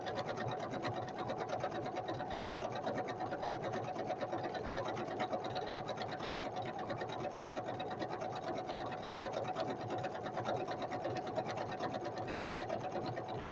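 A sewing machine stitches fabric strips for a flower basket, pink thread on top and white bobbin beneath, running as a steady, fast mechanical whir at close range, briefly pausing a few times.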